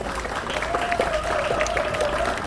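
A crowd applauds steadily throughout at a memorial stone unveiling marking the 5.18 Democratization Movement anniversary, with dense clapping at a moderate distance and no break.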